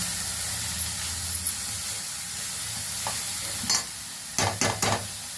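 Carrot rice ingredients, including grated carrot, fry in a pan with a steady soft sizzle and hiss, with a few brief stirring scrapes near the end.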